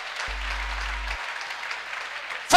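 A church congregation claps for God in a steady, dense wash of applause lasting a couple of seconds, with a low hum briefly underneath and a sharp loud burst at the very end.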